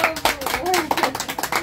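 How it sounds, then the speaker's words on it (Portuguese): Family members at home clap their hands in a brief round of applause, a few sharp claps nearly buried under excited voices talking over them. "salva de palmas"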